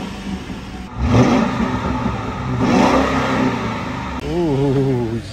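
A 4.6 liter V8 car engine with 79,000 miles is revved twice, each rev rising to a loud close roar and easing back to idle, with a brief voice at the end.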